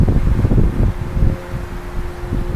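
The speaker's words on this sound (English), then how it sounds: "It's kind of windy out right now." Wind blowing outdoors, a loud rushing buffeting roar that swells and dips in gusts, with low rumbling microphone buffeting and no voices.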